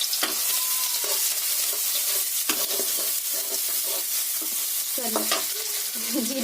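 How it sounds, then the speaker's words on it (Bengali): Onions hit hot oil in a pan where fish was just fried, making a loud, continuous sizzle with occasional stirring clinks and scrapes close by. "এবার আমরা পেঁয়াজ দিয়ে দিচ্ছি।"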